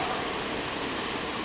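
Steady broadband rush of water and machinery from a sludge belt thickener at a water recovery plant, where water drains from sludge on a moving belt past plows; continuous and even, with no talk.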